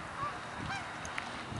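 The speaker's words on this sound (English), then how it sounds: "Look at the birdies." Geese honk at a lake park, several faint nasal calls scattered over a low background murmur.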